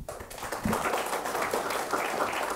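Audience applause at a final of a high school literary criticism competition, a brief burst of many hands clapping, moderately loud and dense, with no voices over it.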